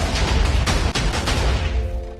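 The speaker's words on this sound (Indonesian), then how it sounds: "Kumpulan TNT itu anehnya tiba-tiba meledak dengan sendirinya." A TNT explosion in the Minecraft video game on a plains biome, heard as a loud, dense, roaring blast that rumbles continuously for about two seconds before easing off slightly.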